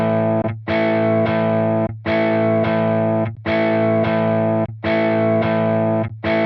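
Distorted electric guitar played through a Tonex pedal and through the Tonex software in turn, repeated chords in short bursts with brief gaps between them, loud and close, no talking.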